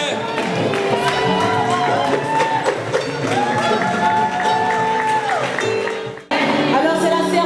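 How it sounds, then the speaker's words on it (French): Audience at a gospel concert cheering and acclaiming an artist, a loud continuous crowd roar with shouts and whoops over music-like tones, briefly dropping out before resuming. "Sous votre acclamation, s'il vous plaît."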